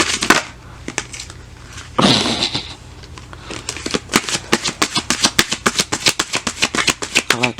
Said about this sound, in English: I like when my cards fall out.